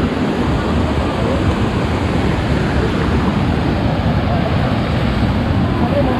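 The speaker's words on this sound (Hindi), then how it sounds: "ये 30 फीट की ऊंचाई से गिरता है झरना" Dudhsagar Falls, a waterfall dropping about 30 feet, roars as a steady, dense rushing wash with no breaks, loud and continuous throughout.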